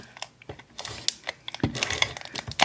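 Flink Fix adhesive glue roller rolled across a surface and lifted away, giving a run of small dry clicks and crackly ticks at close range, with no talk.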